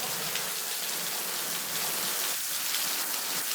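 Heavy rain pours down steadily outdoors, a dense, even hiss of drops on surfaces that stays loud and constant throughout with no pauses.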